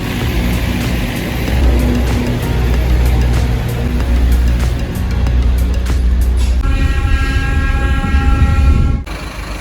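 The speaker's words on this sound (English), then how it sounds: "Then it's a 2-hour train ride." A train carries passengers from Cusco toward Machu Picchu, its loud steady rumble and low hum filling the cabin before a higher whine appears and the sound cuts off abruptly.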